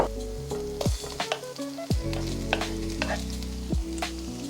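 Tomatoes and eggs stir-fry with garlic in a pan, a close sizzle punctuated by sharp stirring knocks and scrapes, heard under light background music without talking.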